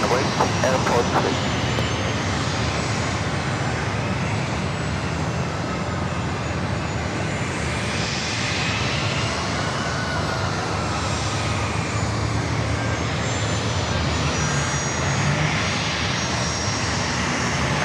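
Airliner jet engines roar steadily and loud at San Diego airport's runway, a broad continuous rumble holding for the whole stretch with faint radio chatter beneath.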